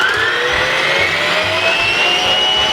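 An electric mixer runs at high speed beating cake batter with eggs for a Danish almond cake, a loud, steady whirring hum with a slowly rising whine, close and uninterrupted.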